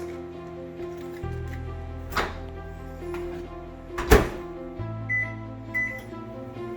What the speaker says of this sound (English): I'm going to melt it in the microwave for 30-second intervals.